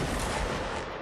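A musket volley rings out in Mount & Blade Napoleonic Wars, a single dense burst of overlapping shots that fills the moment and then tails off.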